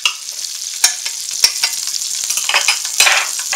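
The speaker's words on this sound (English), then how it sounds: "We're going to put about 4 tablespoons of butter in here." Butter, about four tablespoons, sizzles in a hot frying pan for a low-carb Salisbury steak, with steady frying crackle and a few louder stirring scrapes as it is spread around, no talk.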